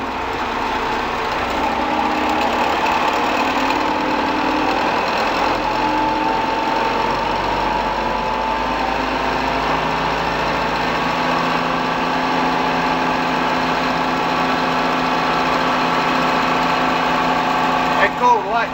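A John Deere 3300 combine's diesel engine runs steadily at raised revs, a loud continuous drone with a constant hum that shifts slightly in tone partway through and ends with a few knocks.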